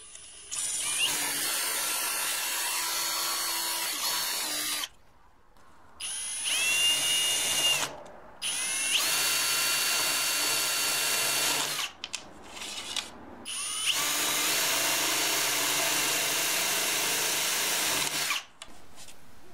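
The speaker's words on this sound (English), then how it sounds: "I only have a hand drill to do this." A small hand drill whirs in several bursts of a few seconds each while drilling mother of pearl, separated by short pauses, its high-pitched motor whine close and steady.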